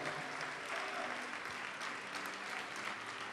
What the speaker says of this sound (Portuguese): Vamos aplaudir mais ao nome do Senhor.